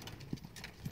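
Hooves of a pony being ridden at a canter beat in a few dull, muffled thuds over a single second, low and moderately close, with no talk.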